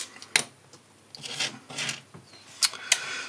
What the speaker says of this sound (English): We'll just pop those screws out.